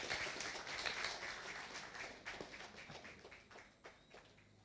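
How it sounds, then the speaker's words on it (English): An audience at an evening forum in a park pavilion applauds the Prime Minister's arrival. Dense, fairly quiet clapping starts full and thins to a few scattered claps before fading. "give a round of applause for the Prime Minister as she comes"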